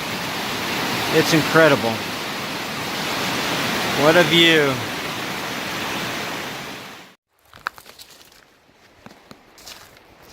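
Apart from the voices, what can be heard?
mountain spring water rushing down the mountain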